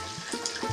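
Hot water pours into a pan of suji upma with tomatoes, a short faint splashing and bubbling burst at close range.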